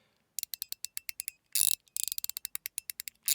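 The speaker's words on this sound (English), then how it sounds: "There is an interesting kind of popping noise." A fidget toy with balls inside gives a quick run of crisp, clicky pops, near and fairly faint, broken by a short denser rattle partway through and then more rapid pops.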